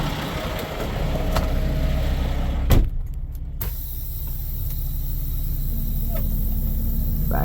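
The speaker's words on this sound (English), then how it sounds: "Now we're going to back this truck up" A farm truck engine runs steadily with a low rumble while backing up, a sharp clunk and short gap midway, then the motor settles into an even idle.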